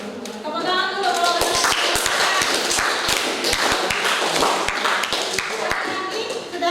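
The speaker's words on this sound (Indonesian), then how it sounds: "Tepuk tangan dulu" Students clapping in a classroom, a loud, close burst of many hands with sharp, uneven slaps and thumps that runs continuously for several seconds.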